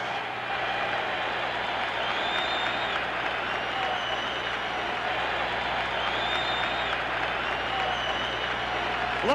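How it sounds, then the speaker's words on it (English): A large boxing arena crowd at the 1972 Muhammad Ali vs Floyd Patterson fight roars steadily, a dense wash of cheering and chatter with scattered clapping that holds at an even level throughout. "But listen to this crowd."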